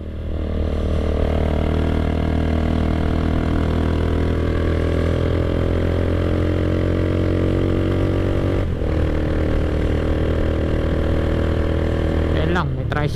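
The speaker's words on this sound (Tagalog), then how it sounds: "Parang ayaw na umahon ng motor ko ah." A motorcycle labors uphill on a ride around Pitogo, Quezon, its engine holding a strained, steady drone throughout at close range, with a brief sharp clatter near the end.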